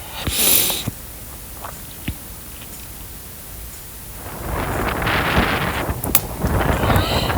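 Strong wind over the Kattegat sea in November buffets the microphone in rough gusts, with rushing, roaring noise building louder in the second half.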